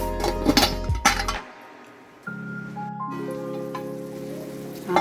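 A metal lid comes off a pan of cheese corn with clattering, clinking knocks, then a short quiet. A steady hissing bubble of cooking follows and a final clink, close by and fairly loud, with no one speaking.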